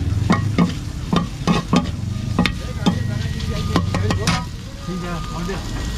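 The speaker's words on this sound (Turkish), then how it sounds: "Döneri kesiyorum, tantunu da kızartıyorum." Tantuni meat fries on a hot street-food griddle and is stirred with repeated sharp metallic scrapes and taps over a steady sizzle. Voices can be heard faintly in the background.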